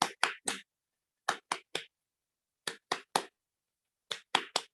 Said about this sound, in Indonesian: Sekarang tepuk semangatnya sendirian.